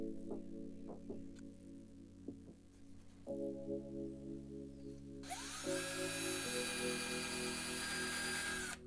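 A small power drill bores a hole into a wooden frog fishing lure, a steady motor whine that shifts pitch several times and then rises into a harsh, louder grind as the bit bites.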